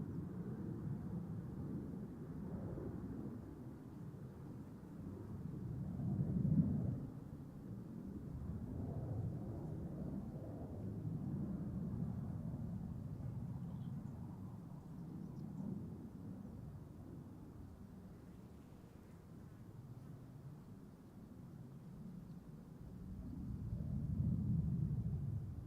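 Aircraft engines spool up at Amsterdam Schiphol Airport, a faint, distant low rumble that swells and fades with the wind, heard from a spotting spot behind bushes, with no talking.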